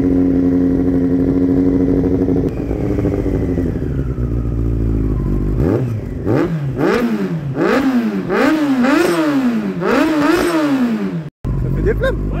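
Motorcycle engine, warmed up, idles with a low drone and is then revved again and again in sharp rising-and-falling bursts, loud and close, before cutting off briefly; a voice is heard faintly under it.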